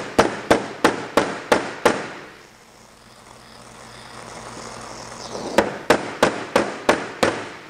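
A round-faced hammer strikes sheet metal while forming a Porsche 550 nose over a wireform: a run of six sharp, evenly spaced ringing blows, a quiet pause, then another steady series of six.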